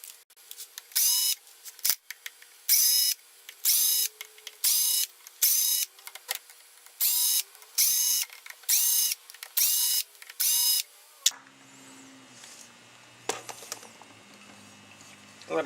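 A power tool backs screws out of a Caterpillar AC unit, whirring in a regular run of short, loud bursts with brief pauses between them, followed by a lower, rougher mechanical rattle.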